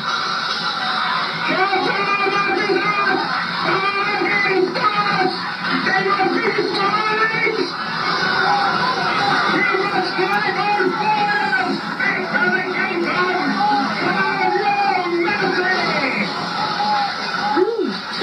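Angry rally crowd roaring and shouting in a rage at a masked hate monger's speech, a dense continuous clamour of many voices that stays loud throughout, with individual yells rising out of the mass.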